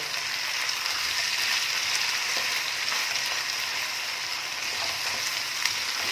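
Tomatoes and green chillies sautéing in a pan for Kolkata-style ghugni, a steady close sizzle that holds evenly for the whole stretch with faint clicks now and then and no voices.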